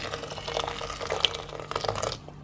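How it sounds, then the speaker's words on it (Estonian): Boiling water is poured from above onto oat flakes in a pot, making a continuous splashing stream for about two seconds before it stops. "120 grammi läheb potti, keeb vesi peale"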